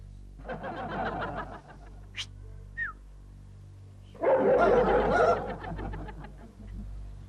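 A dog barks in two rapid bursts of repeated loud yelps near the microphone, separated by a quieter gap with a few brief high calls.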